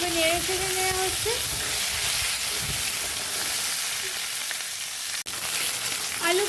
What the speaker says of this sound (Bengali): আলু কচু দিয়ে ভালোভাবে নেড়ে চেড়ে নেওয়া হচ্ছে।